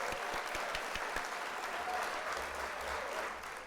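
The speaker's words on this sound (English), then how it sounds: "We're going to hit the old applause there so we can give you the applause sound effect." Canned applause effect triggered during a livestream of a model-kit building workshop: a steady wash of crowd clapping and cheering, fairly loud and continuous throughout, with no talking over it.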